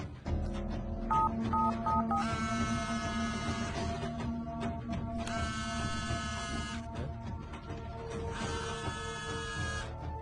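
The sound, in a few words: telephone keypad dialing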